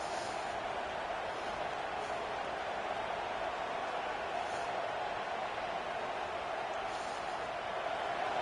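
A crowd roars in a video game American football stadium as the defense holds in the red zone. The roar is a steady, distant wash of cheering that runs unbroken throughout.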